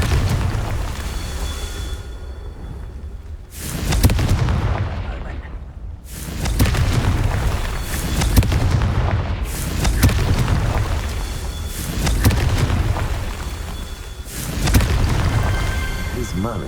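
Repeated heavy magical blasts from the Confringo fire spell in the video game Hogwarts Legacy during Percival Rackham's Trial, several booming bursts a couple of seconds apart over a dense, continuous game soundscape.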